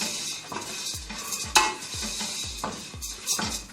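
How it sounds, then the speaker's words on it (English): Barley toasts in a pan with turmeric, ginger, garlic and onion, a low sizzle under rhythmic scraping and tapping of a utensil stirring against the pan about twice a second, close and fairly quiet. "we got our barley toasting nicely with our spices"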